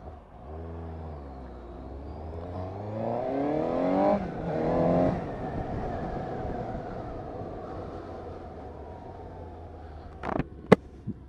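A Suzuki GSX-S750 motorcycle with a stock standard exhaust revs up inside a tunnel, the engine note climbing and echoing before settling into a steady cruising drone, with a couple of sharp clicks near the end.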